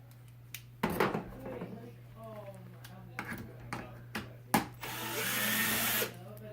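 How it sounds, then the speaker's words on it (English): A power drill whirs in short bursts while removing screws from an electric stove range, close, with clinks of metal parts and someone talking between bursts, ending in a longer whine. "Now back to the drill."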